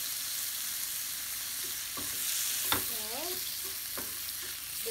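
Shrimp fry in a pan for pad thai while being stirred, a dense continuous sizzle with a few scraping and clinking stir sounds cutting through.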